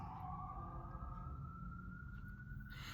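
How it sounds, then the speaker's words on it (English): A faint, distant siren wails and slowly rises in pitch over a low, steady rumble of city background noise. "Sorry, there's sirens. I live in a city."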